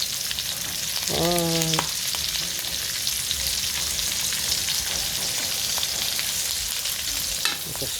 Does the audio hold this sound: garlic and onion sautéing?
yes